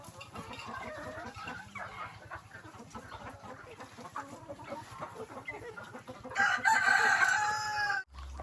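Chickens on a farm in Subic, the Philippines, cluck steadily throughout, and toward the end a rooster crows loudly and close by, standing out clearly above the flock.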